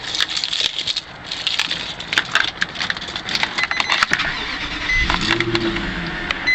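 A 2003 Infiniti FX45 V8 engine cranks and fires up near the microphone, settling into a steady idle after a brief jangle of keys and cabin rustling.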